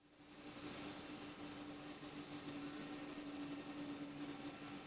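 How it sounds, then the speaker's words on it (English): A big passenger plane taxis toward its terminal gate at Zurich airport, its jet engines giving a steady, loud, unbroken drone with a faint whine on top, and nobody speaking. "The pilot has to steer the big plane toward the terminal."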